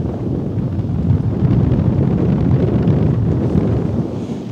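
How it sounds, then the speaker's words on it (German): Strong wind blowing at a harbour during a port festival, with heavy gusts buffeting the microphone in a loud, continuous low roar for the whole stretch and no talking. "boah, Mann, bläst der Wind hier"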